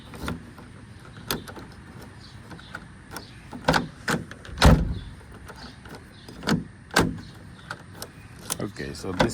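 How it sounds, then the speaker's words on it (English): A key works in the door lock of a 2006 VW Beetle, making a series of sharp metallic clicks and rattles spread over several seconds, with a voice speaking between them. "so this is our key in the door."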